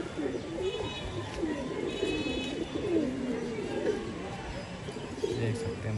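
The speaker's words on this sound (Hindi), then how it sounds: "ये देखिए अड्डे पे बैठा है कबूतर पीली कड़िया वाला माशाल्लाह" A yellow-ringed pigeon sits at its loft during a pigeon flying tournament and coos again and again in low, rolling phrases, fairly quiet, while someone talks nearby.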